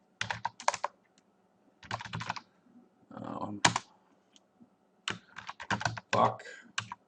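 Computer keyboard typing text for a meme, bursts of quick key clicks separated by short pauses, close and fairly quiet with no talking.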